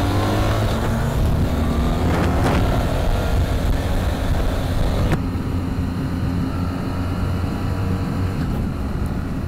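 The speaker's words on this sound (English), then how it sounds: "So I just shifted up twice using the quick shift assist pro, or whatever it's called." BMW R 1300 GS motorcycle riding and upshifting twice with quick shift assist, a loud continuous engine roar with changes in pitch around two and five seconds, close and alone.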